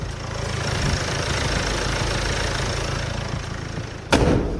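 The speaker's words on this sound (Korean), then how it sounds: "지금 엔진 사운드 듣기 위해서 본네트까지 개방해봤습니다" A Land Rover Discovery Sport 2.0 diesel engine idles steadily with its hood open, a low, even rumble and faint knocking, close by, then a sudden short clunk near the end.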